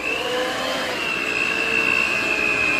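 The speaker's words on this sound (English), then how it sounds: "The stirring machine. It's like this, but powerful." A powerful electric stirring machine running steadily as it mixes a thickening milk batch, a loud, constant close whir with a high whine that does not let up.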